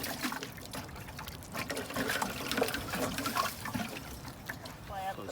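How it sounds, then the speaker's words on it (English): Water pours and trickles onto newly transplanted seedlings in a garden, a steady splashing flow that continues throughout, fairly close. "we want to water in the transplants just to make sure that they have a good start on life in the new garden"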